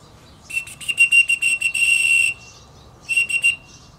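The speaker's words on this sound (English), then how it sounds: "So I give that whistle" A trainer's shrill whistle cues a young mink during caching training, sounding as a rapid run of short pulsed bursts that merge into one long steady tone, then a second shorter pulsed burst after a pause, loud and close.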